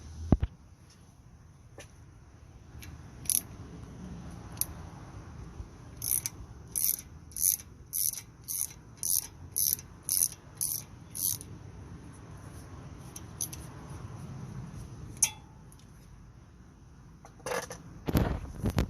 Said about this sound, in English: You're going to need your little ratchet. Let me hook up my ratchet.